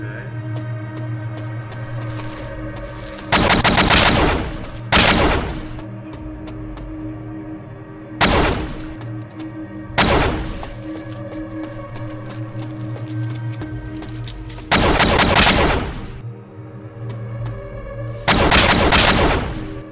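A big gun firing in the video game Covid 23 Test Labs, five loud, sustained bursts of rapid automatic fire separated by a few seconds of quieter game ambience.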